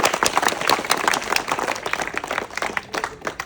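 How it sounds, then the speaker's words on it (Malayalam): A theater audience bursts into applause, dense and fast clapping from many hands that stays loud for a few seconds before thinning slightly toward the end. "പിന്നെ നല്ലൊരു കൈയടി തരുമോ?"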